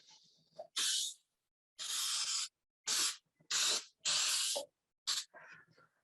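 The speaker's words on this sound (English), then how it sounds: "I also usually do this over the sink so I don't spray oil all over the house." Cooking oil spray hisses onto a cake pan over a kitchen sink for a plum torte, in about six distinct close bursts of varying length separated by short pauses.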